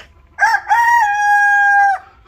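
A rooster crows once, loud and close, a stuttering start stretching into a long, sustained call that cuts off sharply.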